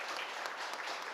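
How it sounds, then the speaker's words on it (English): Audience at a climate and urban action conference applauding a panel, a short even burst of many people clapping at moderate volume. "Give them a round of applause, please."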